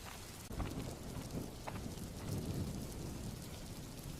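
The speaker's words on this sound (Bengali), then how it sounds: "বৃষ্টির জোরে এবছর আর ধানই ফলবে না" Heavy rain pours steadily over a rural rice-farming scene in a Bengali fairy-tale cartoon, with a dense continuous hiss and low rumbling thunder underneath, including a sharper crack near the start; no one speaks.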